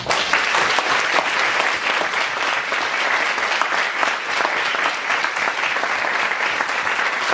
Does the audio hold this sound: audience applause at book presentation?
yes